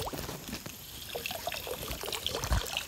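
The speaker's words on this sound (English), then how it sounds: "we're gonna filter our water" Water trickles and dribbles steadily at a campsite while it is being filtered, a faint, continuous splashing with small irregular drips and a soft thump near the end.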